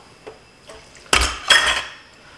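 A bowl clinks against a pot of water being set up as a double boiler to melt butter for hollandaise sauce: a couple of faint taps, then two louder metallic clanks close by.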